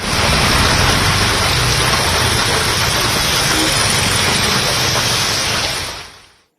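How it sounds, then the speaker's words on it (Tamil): Heavy rain pours down on waterlogged roads in Vellaiyangadu, Tiruppur, Tamil Nadu, a dense, steady roaring hiss that stays loud and unbroken before fading out at the very end. "வெள்ளியங்காடு உள்ளிட்ட பகுதிகளில் மழை கொட்டி தீர்த்தது"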